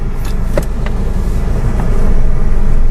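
A used car on a test drive hums and rumbles from inside the cabin, its engine and road noise steady and loud and swelling slightly toward the end, with a few small clicks early on.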